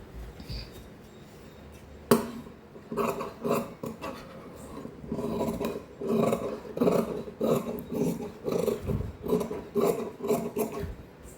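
Scissors cut through blouse fabric in a steady run of rasping snips, close and moderately loud, after a sharp knock partway in.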